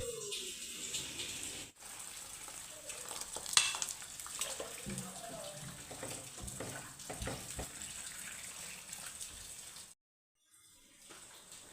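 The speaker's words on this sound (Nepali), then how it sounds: "म चाहिँ चिया बनाउँदैछु" Morning tea being made in a home kitchen in Sikkim on a rainy day, with a steady hiss of water and boiling, scattered clinks and stirring, and a short pause near the end.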